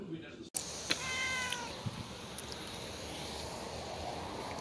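A cat meows clearly a few times near the start, close and moderately loud, with people chatting in a room around it.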